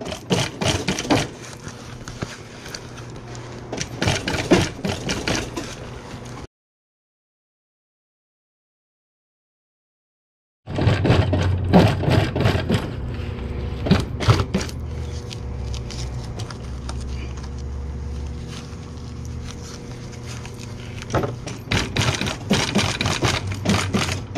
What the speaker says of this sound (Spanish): Y aquí voy cosiendo.